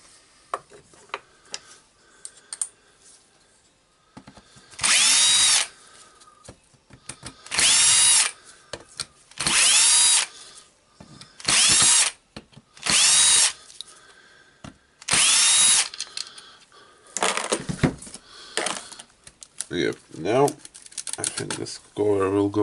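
A power screwdriver buzzes in about seven short bursts as it backs screws out of a Dewalt D25831 SDS-plus rotary hammer drill being taken apart. Lighter handling clatter and a voice come between the bursts.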